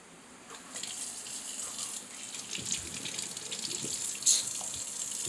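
Tap water runs steadily into a sink while something is washed, splashing and shifting in intensity with a brief louder gush near the end, close and alone without speech.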